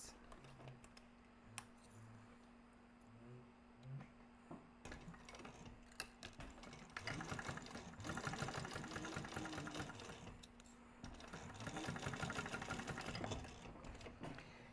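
A sewing machine bastes pieces of a crossbody bag in place. After a quiet start with a few faint clicks, the machine runs in a soft, steady rattling stitch for several seconds.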